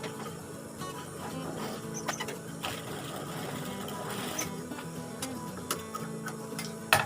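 A sewing machine stitches a smocked collar about 2 cm at a time, its rapid mechanical ticking running steadily and close up, with a few sharper clicks scattered through and no talk.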